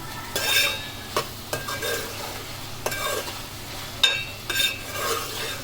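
Dosakaya (yellow cucumber) curry frying in oil is stirred in a pan. Distinct scraping strokes come at an uneven rhythm over a low sizzle, heard up close with no voices.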